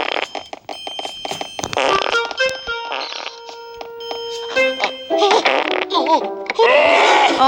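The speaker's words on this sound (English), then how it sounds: "You can throw a toxic donut to the officers and they'll fart." Fart sound effects from the Robbery Bob 2 video game as officers react to a toxic donut, a rapid series of loud cartoonish farts mixed with jingly game effects and bursts of a voice talking.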